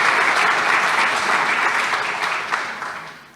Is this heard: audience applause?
yes